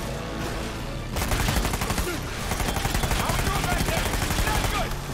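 Rapid, sustained automatic gunfire in Uncharted 4 during a vehicle chase. It opens softer, then a dense, loud rattle of shots runs almost continuously to the end, mixed with engine and action noise.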